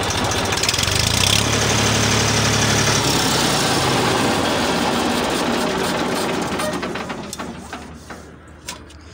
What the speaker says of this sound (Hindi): शानदार आवाज है ट्रैक्टर की।